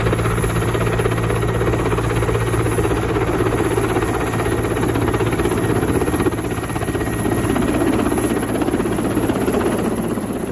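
Helicopter flying low overhead for a stunt, a loud, steady rotor thrum and engine roar filling the whole stretch without a break or any talk.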